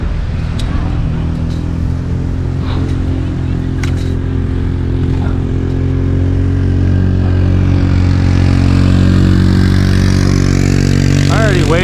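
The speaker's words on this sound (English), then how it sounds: "Here come the beach guys with their little ATV." A small ATV engine drones steadily on a beach at Alki Beach, Seattle, loud and continuous, rising toward the end as the machine draws closer, with surf and wind noise underneath.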